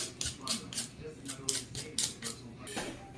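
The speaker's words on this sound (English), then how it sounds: "we're just gonna peel potatoes" Potatoes are peeled for Kenyan mukimo, with a quick series of light, crisp scraping strokes in a steady rhythm, faint and close.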